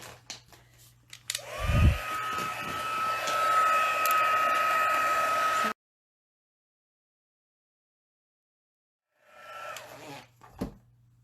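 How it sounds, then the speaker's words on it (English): A heat tool melts embossing powder on a stamp, starting with a click and rising to a steady close blowing whir for several seconds, cutting off to silence, then starting up again briefly near the end. "I'm going to go ahead and put some embossing powder on it right now and heat it up"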